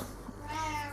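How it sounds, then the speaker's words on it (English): A house cat meows in the background of a quiet room, a single drawn-out, rising meow that follows a brief faint chirp. "And in the background you hear my cat."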